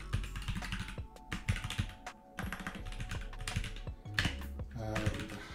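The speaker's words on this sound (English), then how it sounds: "I have a new keyboard now, and that's why I'm just writing." Fingers typing on a new computer keyboard at a desk, with quick irregular bursts of close, crisp key clicks and brief pauses between runs.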